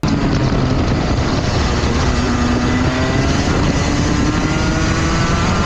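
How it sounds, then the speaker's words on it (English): A racing kart engine at the 2025 KNSW State Titles drones loudly and continuously as the kart exits a corner, its pitch climbing gradually across the run. "listen to how long it takes for the engine to rev up in the final race"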